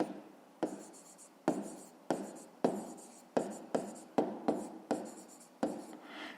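Pen strokes writing out the solution to a fifth-grade math exercise on paper, heard as about ten short scratchy bursts, each one close and fairly loud, with brief pauses between them and no talking.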